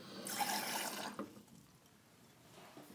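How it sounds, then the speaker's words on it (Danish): Water is poured from a container into a laboratory measuring glass, a steady splashing stream for about a second that then fades to faint trickles and quiet drips, close and alone with no talk. "Derefter tager I og hælder 9 ml vand"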